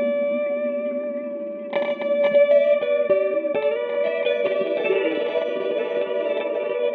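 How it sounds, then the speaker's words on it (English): Many polyphonic delays feed a bank of filters in VCV Rack, building a dense, shimmering wash of repeating synth tones. Echoing plucks pile in partway through and thicken into a steady, reverberant drone with no talking. "it's just loads of delays at once into loads of filters."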